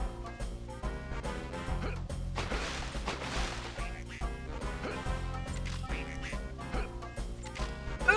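Duck quacks ring out in the Toy Story 2 video game over busy game music and crashing effects, with several short nasal calls packed into a dense, loud mix.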